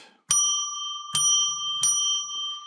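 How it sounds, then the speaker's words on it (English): A small bell is struck three times at steady intervals to open sacred space before a card reading. Each ring is a clear, close, bright chime that decays into a sustained tone, with no talking over it. "Let's ring a bell 3 times to declare sacred space."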